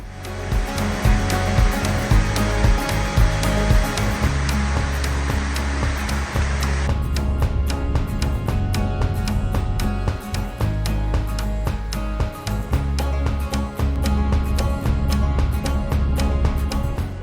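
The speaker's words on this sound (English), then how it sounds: "it's a waterfall that you have to walk through almost like a cave in order to get to" Seljalandsfoss waterfall in Iceland thunders in a loud, steady, close roar of falling water that continues without pause, with no voices.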